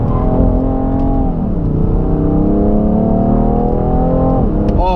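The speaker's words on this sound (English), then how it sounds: "when those turbos kick in on that 3-liter twin turbo inline 6, this thing pulls hard" A 3-liter twin-turbo inline-six sports car engine pulls hard under acceleration, a loud, steady, close-up drone whose pitch sweeps up and down with throttle and a brief shift near the end.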